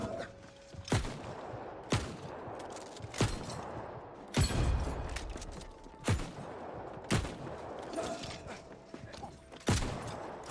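A weapon fires in the game New World: Aeternum, with about nine sharp, loud shots spaced roughly a second apart over a dense, continuous bed of game ambience.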